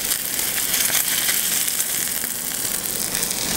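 A salmon fillet sears in a hot pan, giving a steady, bright sizzle and crackle, close and continuous with no talking.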